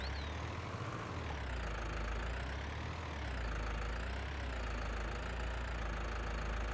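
Tractor engine idling in Farming Simulator 19, a steady low rumble with a mid-range drone that holds close and constant throughout, with no talk over it.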